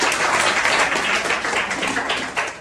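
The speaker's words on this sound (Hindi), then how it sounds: "इनके लिए जोरदार ताली हो जाए" Enthusiastic applause for a student at a mobile eMMC repair training class, a dense, steady crowd clapping that fills the whole stretch without letup.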